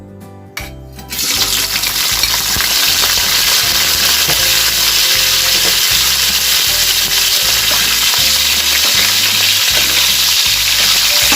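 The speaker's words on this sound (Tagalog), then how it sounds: "Ipiprito natin ngayon ang boiled pork." Boiled pork drops into a hot pan and fries with a loud, dense, steady sizzle that starts suddenly after a moment of quiet and continues close up, with light rhythmic clatter of the pan beneath.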